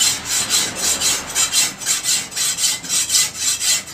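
A traditional Sri Lankan blacksmith drags a hand file across metal in steady back-and-forth rasping strokes, about four per second, close and loud with no talk.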